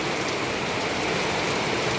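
Steady, dense rain falling outdoors during typhoon season, a constant broadband hiss of water pattering on surfaces, close and unbroken with no talking.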